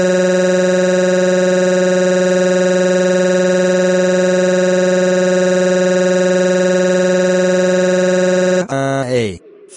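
A custom alarm made in Plotagon blares as one loud, unbroken buzzing tone for nearly nine seconds, then cuts off into a brief jumble of sound.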